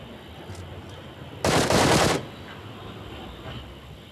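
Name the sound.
gunfire in the video game BGMI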